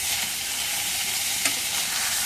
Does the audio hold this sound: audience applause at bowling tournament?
no